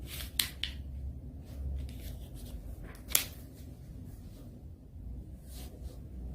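Paper being folded and pressed into creases for an origami swan, heard as soft, sparse rustles and crinkles with a couple of sharper crease snaps, close and quiet, no talking.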